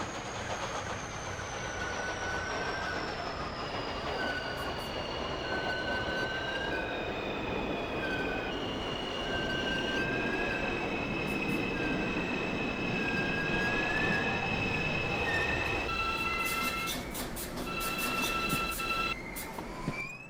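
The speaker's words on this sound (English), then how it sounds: "This is a Bronx-bound 1 train." Simulated Bronx-bound 1 subway train in the OpenBVE game, a continuous rolling rumble with long, high wheel squeals and whining tones that shift in pitch, growing busier near the end.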